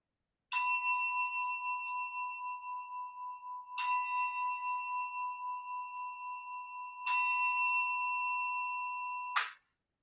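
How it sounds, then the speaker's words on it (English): A Zen ceremony bell at a Soto Zen Buddhist novice priest ordination, struck three times at slow, even intervals, each ring clear and sustained with a long shimmering decay, followed by a brief final tap near the end. "after I ring the bell"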